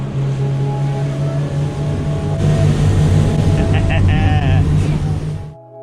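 A fishing boat motor runs on salt water, a steady loud droning hum with low tonal throb, joined by sloshing water and a faint whine before cutting off abruptly near the end.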